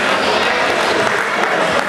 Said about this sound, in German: kleinen Applaus von Heidemann